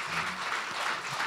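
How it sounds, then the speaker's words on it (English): Audience applause for conference panelists at a race and ethnicity event, a brief steady patter of clapping heard from within the room. "can we give our panelists a round of applause for"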